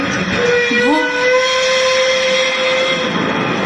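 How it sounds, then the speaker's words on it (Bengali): A long, eerie steam train whistle wails with a rising start and sustained tone for a few seconds, over a steady background hiss. "ভৌতিক ট্রেনের হুইসেল শোনা যাচ্ছে"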